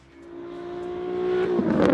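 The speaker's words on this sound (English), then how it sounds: "Now the sound of the VQ engine is," A Nissan 350Z's VQ engine revs up steadily with a rising, droning tone, ending in a harsher, louder burst as the revs climb.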